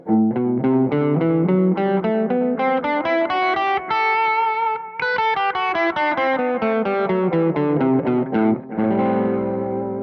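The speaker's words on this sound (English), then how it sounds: "It's the second mode of the major scale, the Dorian mode, and it sounds like this." An electric guitar with a distorted, effects-laden tone plays a flowing Dorian mode scale line, notes rising and falling continuously, loud and sustained with no talking.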